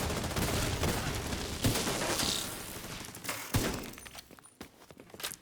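Rapid gunfire and mechanical clatter from a shooter video game, dense overlapping shots through the first half, then a sharper single report and scattered thuds as the action thins out.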